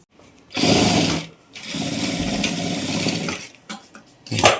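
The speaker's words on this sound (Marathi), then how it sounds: "फोल्ड केल्यानंतर अशी परत एक शिलाई मारून घ्यायची" A sewing machine stitching a katori blouse runs in two close, steady bursts, a short one and then a longer run, with a brief clatter near the end.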